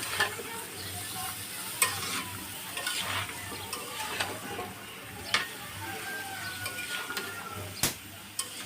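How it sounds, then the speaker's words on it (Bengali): Shrimp and sweet pumpkin sautéed in a pan, with steady sizzling and frying under repeated sharp scrapes and clicks of a spatula stirring, close and moderately loud with no talking. "একটু কষাই নিব যাতে গন্ধটা চলে যায়।"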